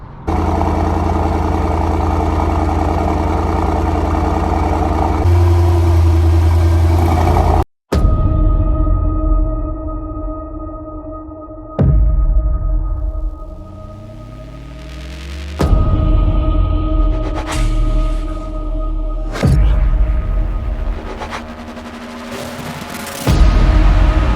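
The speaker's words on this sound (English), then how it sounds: "listen to the sound from the engine" A Mercedes-AMG GT 63 S 4-door Coupe (630 HP) engine idles and revs, with a rising whine as it accelerates, brief cuts, and repeated swells in pitch as it drives.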